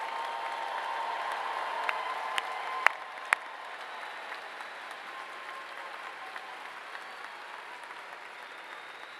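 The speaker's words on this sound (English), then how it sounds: "How about another big round of applause for all of our graduates today?" Applause for graduates at a summer commencement, a soft, distant wash of crowd clapping with a few sharper nearby claps standing out, fading to a quieter, sparser patter.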